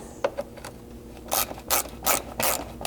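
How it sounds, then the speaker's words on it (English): A ratchet clicks in short bursts while a T30 Torx bit backs out fasteners on a Lexus LX 570, several quick close rasping runs separated by brief pauses. "The Torx fasteners in here can be removed with a T30 Torx bit."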